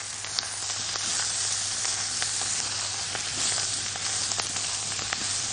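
Food being stirred in a pan with coriander, saffron and chili, under a steady close sizzle and frying hiss, with faint scattered scraping ticks.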